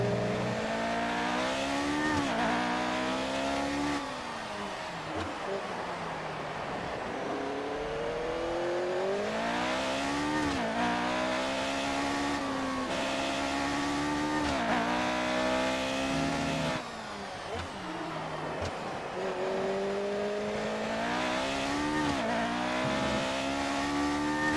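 A 1976 McLaren Formula 1 car engine in the video game F1 2018, racing at the China circuit, rising and falling through gear changes with steady loud revving and occasional tire squeal, no talk.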